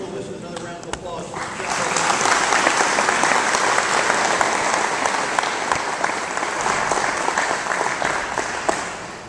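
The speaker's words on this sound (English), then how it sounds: "Let's give the JSO Color Guard and our soloist another round of applause." Sustained applause fills a hall at a sheriff's office annual meeting after a color guard and a soloist perform, swelling after a brief start and holding steady and dense throughout.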